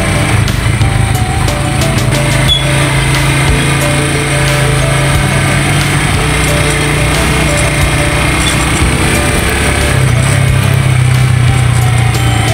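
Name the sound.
motorcycle engine while riding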